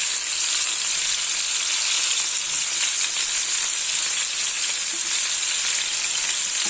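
Prawns for a prawn roast sizzle loudly and continuously in hot oil as they are turned, a dense, even frying hiss with no talking.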